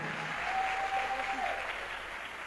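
A church congregation applauding in acclamation at a prayer gathering, a dense steady clapping that fills the space for a couple of seconds, with a faint voice mixed in.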